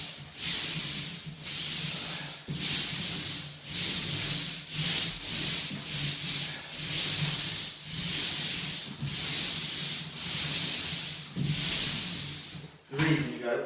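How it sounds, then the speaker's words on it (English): A paint roller rolls basecoat onto new plaster in repeated up-and-down strokes, each a close, steady swishing rub with brief pauses between passes, ending in a short clatter. "Not overloading the roller, just putting enough of it to do a small section."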